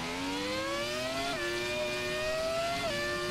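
A high-pitched Formula 1 car engine in the F1 2017 video game at Silverstone whines loudly and continuously, its pitch climbing then dropping sharply twice as gears shift, with no talking.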